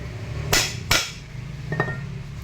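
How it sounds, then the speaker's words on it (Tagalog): Two sharp hammer blows ring out on a metal part of a Ford Everest during drivetrain repair work, followed by a lighter clink, close and loud over a low background hum. "May pukpok ulit."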